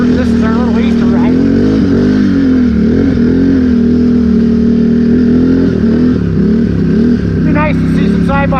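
An off-road vehicle engine on an Easter trail ride drones loud and close with a steady low hum and rising and falling revs, while someone talks over it.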